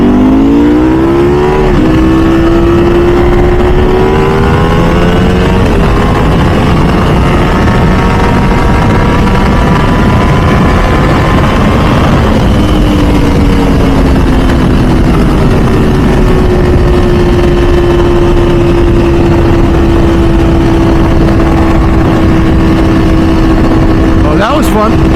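Ducati V4 SP2 motorcycle with a dry clutch and open clutch cover accelerating hard through the gears into third, a loud continuous engine roar with rising and falling pitch as it shifts, close and steady throughout.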